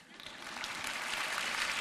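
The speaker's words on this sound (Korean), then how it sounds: "박수가 나와야 되는 거죠" A congregation at a prayer meeting breaks into applause that starts light and swells into a steady, moderately faint wash of clapping.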